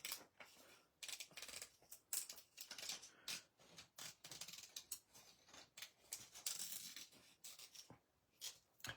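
Scissors cut paper card around a shape for a 3D Christmas scene card, giving a close, quiet series of irregular snipping and rustling bursts with short gaps between them.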